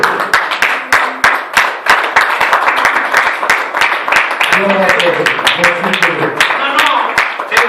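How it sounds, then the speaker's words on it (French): A church congregation at a Sunday service claps in loud, fast rhythmic applause, close and sustained, with voices calling out and singing along underneath. "Ce sont des acclamations."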